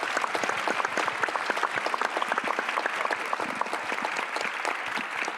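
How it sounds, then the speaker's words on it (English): Steady, dense applause from a conference audience, sustained clapping at a fairly loud level for several seconds. "Would you please clap for them?"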